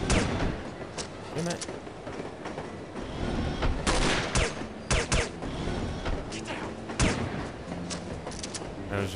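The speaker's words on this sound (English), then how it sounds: "Why am I shooting so badly all of a sudden?" Gunfire in No One Lives Forever, with sharp shots at irregular intervals amid mechanical clatter, moderately loud over a steady background with some speech.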